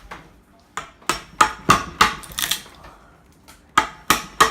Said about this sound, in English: I'm going to come in and chisel all this off.